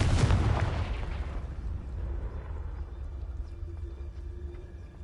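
A Confringo spell explosion in the Hogwarts Legacy video game, heard as a heavy, close boom at the start that fades into a long low rumbling tail.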